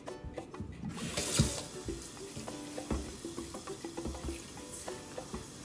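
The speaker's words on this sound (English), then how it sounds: "you get your hair thoroughly wet" Running water soaks thick, frizzy curly hair before washing, giving a steady splashing and dripping with soft wet rustles and small bumps. The sound is close and fairly quiet, with no talking.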